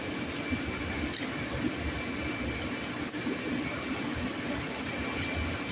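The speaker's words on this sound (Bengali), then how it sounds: "এটাকে আমি ভালো করে ধুয়ে দিলাম পেঁয়াজটাকে ভালো করে" An onion being rinsed under a running kitchen tap, a steady, continuous rush of water that stays loud and even throughout with no voices.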